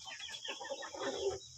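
A free-range native hen, a laying mother bird kept resting in a quarantine coop, clucks in a steady, close series of short, throaty calls, with soft pen background noise underneath.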